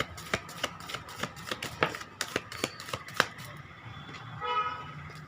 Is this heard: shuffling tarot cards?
yes